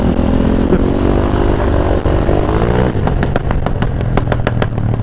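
A scooter engine revs hard with a loud, crackling aftermarket exhaust, the tone climbing and falling before breaking into a rapid run of sharp pops and bangs, close and constant throughout.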